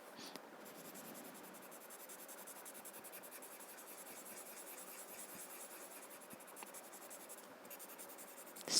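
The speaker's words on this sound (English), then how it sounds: "press it inside the paper and blend it" A blending stump rubbing chalk into paper, a soft continuous scratchy rubbing heard close and faint, with a brief louder scrape right at the end.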